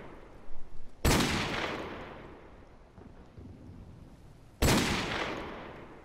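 Two loud gunshots ring out in Call of Duty 4: Modern Warfare Remastered as water bottles are shot, each sharp crack followed by a long echoing decay, spaced several seconds apart with no talk.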